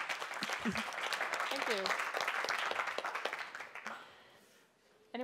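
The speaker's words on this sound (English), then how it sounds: "Okay, applause, guys." Group applause in a room of people, steady dense clapping that fills most of the clip, with a voice speaking briefly over it before the clapping thins out near the end.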